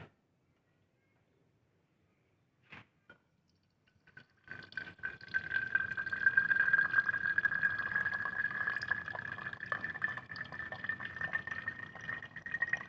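Water falls from a Redwood viscometer into a collecting flask, starting after a few quiet seconds with a couple of faint clicks, then a steady close trickle that fills the vessel with a rising tone.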